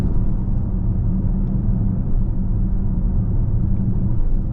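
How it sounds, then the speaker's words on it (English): An Acura MDX Type S is driven in comfort mode on its air suspension. Inside the cabin there is a steady, loud, low road-and-engine rumble, even and unbroken throughout, with no voices. "the MDX Type-S in comfort mode is actually one of the smoothest cars that I've driven over it, with the air suspension just smoothing things out for me"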